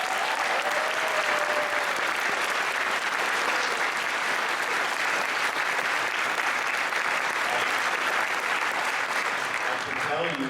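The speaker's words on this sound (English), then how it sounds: "they really deserve a round of applause" An audience at a live podcast recording applauds steadily and loudly for about ten seconds, a dense wash of clapping that barely fades before tailing off at the end.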